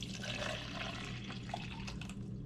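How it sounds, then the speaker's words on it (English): Water pours steadily into a cup, a continuous faint splashing and trickling stream heard close by at low volume throughout. "that does sound like you filled up the cup"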